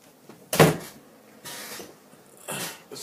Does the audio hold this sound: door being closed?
yes